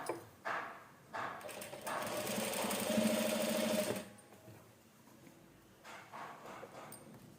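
A sewing machine stitches a blouse, running in a steady close buzzing burst for about three seconds after a few short starts, then falling to quieter handling of cloth.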